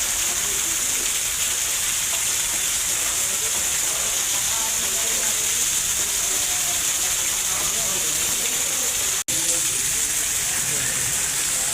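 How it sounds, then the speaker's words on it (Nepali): Heavy rain falling at night over a market street, a steady dense hiss close by that runs unbroken throughout, with only a brief dropout near the end. "अहिले पानी परिरहेको अवस्था भनौँ न 10 बजिरहेछ तर पानी मजाले परिरहेछ"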